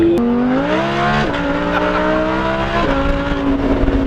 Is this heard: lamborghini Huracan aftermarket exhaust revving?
yes